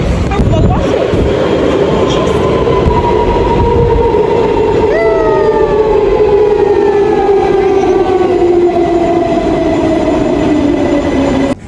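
New Shah Alam LRT light rail train running with a steady loud rumble and rising-falling electric motor whine throughout, a brief higher tone sweeping in midway.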